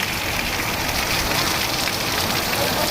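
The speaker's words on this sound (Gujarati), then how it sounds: "ભારે પવન ફૂંકાઈ રહ્યો છે અને તેજ ગતિ સાથે આ ધોધમાર વરસાદ છે તે વરસી રહ્યો છે" Dense, loud roar of heavy monsoon rain with strong gusting wind in Bodeli, Gujarat, a constant wash of noise with no pauses.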